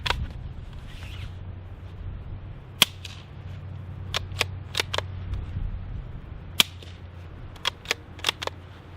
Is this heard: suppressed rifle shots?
yes